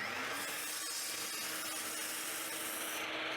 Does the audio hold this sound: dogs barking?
no